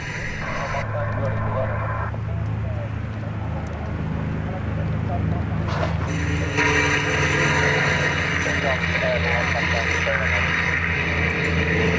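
Two Hispano Buchon fighter aircraft fly over the Duxford Battle of Britain air show, their engines a sustained droning roar that swells as they pass, set against a crowd and commentary.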